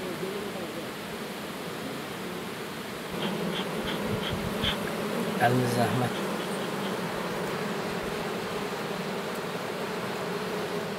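Honey bees buzz steadily at beehives in an Azerbaijani apiary, a dense continuous drone close by, with a brief spoken phrase from a person partway through.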